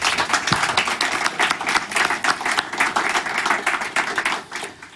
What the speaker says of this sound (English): Let's give them a hearty clap as well.